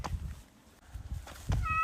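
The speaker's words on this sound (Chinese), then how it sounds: "今天在小区突然听到了猫叫声" A stray short-legged kitten in a residential compound gives one brief, faint meow near the end, after a few soft rustles and shuffles.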